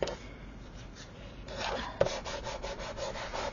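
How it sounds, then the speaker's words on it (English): Tape being burnished onto paper album pieces, a soft repeated rubbing scrape with a small tap around the middle, close and fairly quiet with no voices. "Remember to burnish really well these so that the two pieces of tape stick together."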